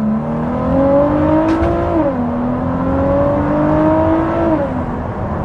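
Ford GT fitted with a Quicksilver Inconel exhaust pulls hard in first gear on an open road, its engine note climbing steadily, dipping at a shift point, then rising again; loud and close, from inside the car, no talking.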